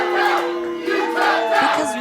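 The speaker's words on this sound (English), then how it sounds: "And this crowd is showing no love." A large wrestling crowd at a world title wrestling event boos and jeers in a continuous, dense roar of hostile voices, loud and close throughout.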